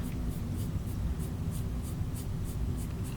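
A bristle ink brush strokes across rough paper during an inking demo, making soft, regular scratchy swishes in a repeated rhythm over a low rumbling background.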